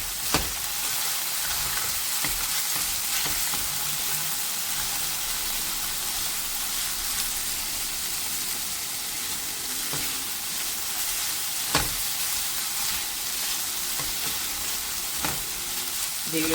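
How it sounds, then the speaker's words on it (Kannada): Potatoes and carrots fry in a hot pan for a Karnataka-style carrot, beans and potato palya, giving a steady, even sizzle throughout with occasional scrapes and stirring knocks, close up and with no talk. "ಈಗ ಕ್ಯಾರೆಟನ್ನು ಹಾಕಿದ್ದೀನಿ. ಇದು ಸ್ವಲ್ಪ ಫ್ರೈ ಆಗಲಿ."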